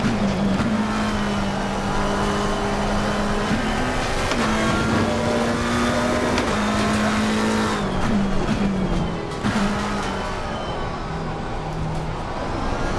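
A McLaren 720S GT3 Evo race car in Assetto Corsa Competizione drones loudly and steadily, its engine note climbing and falling through gear changes, with tire noise and a lift off the throttle late on, no talking.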